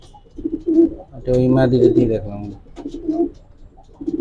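Racing pigeons coo in low, throaty, repeated bursts close by, with someone speaking briefly between the calls.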